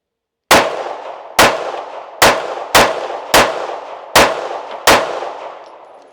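Seven sharp pistol shots from a carry gun with a compensator, fired at a steady, unhurried pace, each a loud crack with a ringing decay, with no voices between them.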